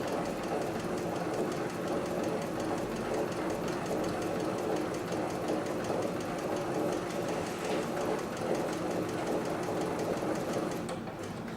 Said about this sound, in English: So I'm just going to start sewing here down the piece.